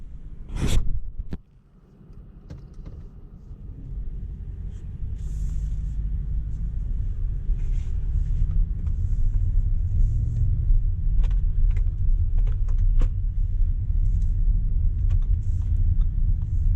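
A 2022 Audi SQ7 V8 SUV sets off after a sharp knock, then settles into a low, continuous engine rumble and road hum heard from inside the cabin.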